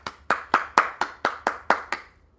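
Eight crisp, close handclaps from one person in a steady, slightly quickening rhythm that stops abruptly, on a live stream after a dog leaves its food alone.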